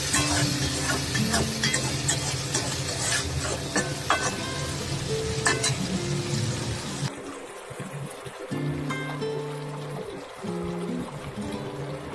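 Ginger-cumin paste frying with ridge gourd in a pan, a steady close sizzle with stirring and scraping that drops to quieter crackle partway through.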